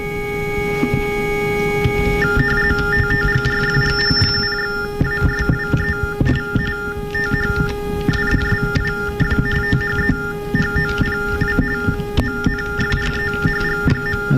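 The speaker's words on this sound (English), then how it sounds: "this is what a TDD sounds like over the phone" TDD (telecommunications device for the deaf) tones come over a phone line at a hacker conference, a rapid stream of alternating electronic beeps over a steady hum, loud and continuous, with clicking bursts throughout.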